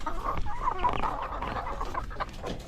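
Several chickens clucking close by, a busy, continuous murmur of clucks and short calls with no talking.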